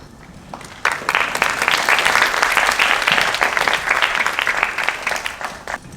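Audience applause after a student team presentation at a high school international academic forum, starting abruptly and staying loud and steady as a dense crowd claps for several seconds.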